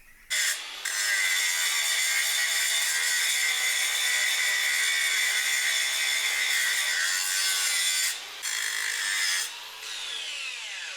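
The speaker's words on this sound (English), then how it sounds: "I'm going to grind this down so it's all level." An angle grinder grinds down a weld on a steel DIY oil tank, a loud continuous high-pitched whine held for several seconds with brief pauses near the end, close by and with no talking.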